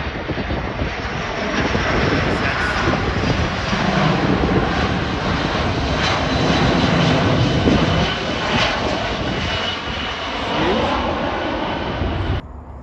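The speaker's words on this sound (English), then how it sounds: "This plane keeps circling just at Bill and Joe's now" Propeller plane circling overhead, its engine a loud continuous drone that swells and fades slightly as it passes, heard outdoors with no talk.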